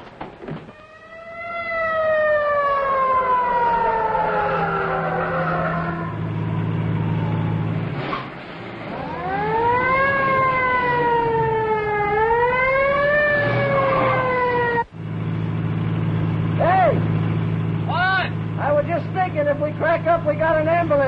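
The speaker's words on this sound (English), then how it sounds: "Follow that ambulance!" An ambulance siren wails, rising and falling loudly through the scene, with a vehicle engine rumbling underneath and people talking over it.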